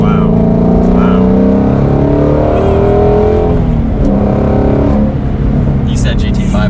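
A Shelby GT350 Mustang engine pulls steadily through a turn, a loud continuous in-cabin drone with rising and falling harmonic tones as it accelerates, with people talking over it.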